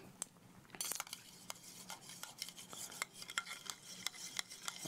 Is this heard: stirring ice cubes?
yes